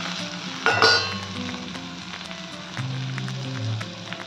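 Prawns fry in a pan for a Bengali prawn and pointed gourd dish, making a soft, steady sizzle with a brief clatter of stirring near the start.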